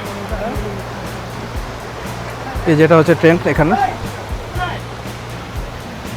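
Steady broadband rush of flowing river water fills the background while a person speaks briefly over it in the middle.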